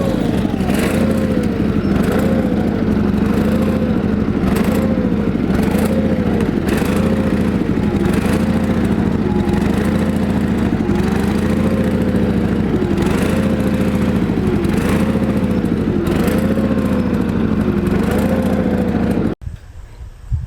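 Ford Wheelers V-twin engine on a mud vehicle running in first gear, a loud, steady close-up chugging with a rhythmic pulsing beat that continues throughout before cutting off abruptly near the end.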